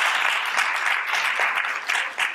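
Applause from an audience at a centennial commission event, steady dense clapping throughout at moderate loudness, with no talk over it.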